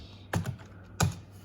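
Two brisk keystrokes on a computer keyboard, about half a second apart, sound close and crisp over a low steady room hum while a file is renamed.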